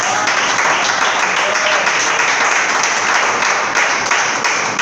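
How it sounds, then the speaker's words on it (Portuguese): A church congregation claps and applauds during a Portuguese-language service, a dense, steady burst of many hands filling the room at close range, with only faint voices beneath. "Desocupe as vossas mãos e batam as melhores palmas para Jesus."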